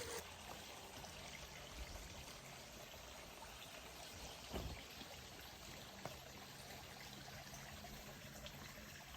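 Water runs steadily from a tap left on, a continuous trickling, splashing flow that stays even throughout with no talk over it.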